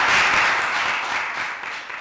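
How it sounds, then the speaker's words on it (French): Studio audience applauding on a Burkina Faso TV entertainment show, a full crowd clapping steadily and fairly loud, easing off slightly toward the end. "Je demande plus d'applaudissements pour nos amis de Dubaï"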